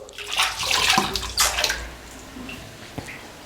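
Kara vadai deep-fry in hot oil over a medium flame, making a bubbling, crackling hiss that is loudest in the first two seconds and then settles to a softer steady fizz.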